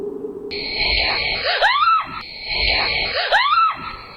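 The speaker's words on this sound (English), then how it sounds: "is absolutely terrified and screams and hurries back inside" Woman screaming in terror in a ghost video, two long shrill screams in a row, each rising then breaking into a wavering wail, loud and close over faint background noise.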